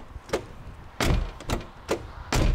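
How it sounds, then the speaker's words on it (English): Repeated solid thunks of a Mini car door being shut, several close impacts spaced about half a second apart, some louder and fuller than others, in a garage setting. "Next thing I want to check is when the door closes if the window goes up"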